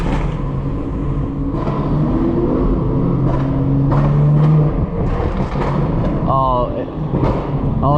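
A Mercedes revs hard behind a car on New York City streets, its roaring engine rising and falling through loud, steady road rumble for several seconds.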